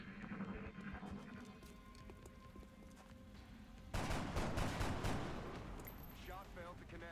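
A gunshot in the XCOM strategy game hits abruptly with a loud, broad crack that lingers under rumbling combat noise, a game voice heard during the busy background.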